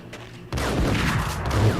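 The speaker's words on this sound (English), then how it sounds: "Gunshot." Gunfire in the Max Payne video game, a loud, dense burst of shots and booms going on continuously after a brief quiet start.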